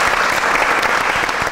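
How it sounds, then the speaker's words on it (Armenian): Loud, dense applause from a live audience at an evening comedy show, continuous clapping close and full for the whole moment with no speech. "Գրիգին է ծափարենք։"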